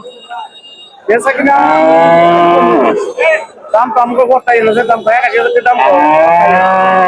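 A cow moos loudly and close by at a cattle market in Gazipur, Bangladesh, several long drawn-out lowing calls one after another with short breaks between them.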